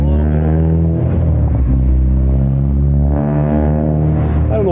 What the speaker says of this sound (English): I don't know why people like to have their cars loud